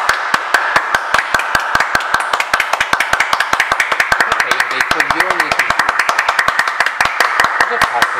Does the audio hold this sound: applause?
yes